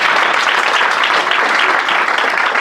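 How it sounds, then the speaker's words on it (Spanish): Steady, loud applause from an audience at an evening storytelling event, dense clapping filling the whole moment with no pause. "Eso, un fuerte aplauso."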